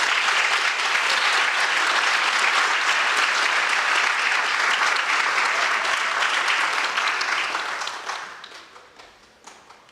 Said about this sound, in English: Can we give them a round of applause for all they've done?